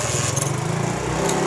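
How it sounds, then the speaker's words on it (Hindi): Honda CD70 motorcycle engine running just after a kick-start, a steady close buzzing idle with a fast even putter and slight rhythmic flutter throughout, no voices. "मोटर बाइक का स्विच ऑन करेंगे और बिस्मिल्लाह करके किक लगाएंगे"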